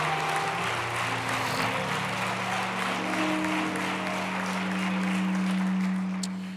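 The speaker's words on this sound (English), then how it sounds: "Give the Lord a big hand clap of praise right where you are" A church congregation at a Saturday evening service claps for several seconds in praise, a broad, steady mass of hands heard at a distance within a reverberant hall, under a low humming tone.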